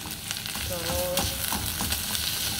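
Meat going into a frying pan for an Indonesian beef soup, giving a steady close sizzle with scattered crackles and light stirring clatter, no speech over it.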